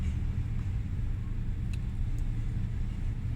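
Clothes dryer with a grinding fault, giving a steady low rumbling drone with faint scraping, close and continuous with no talk.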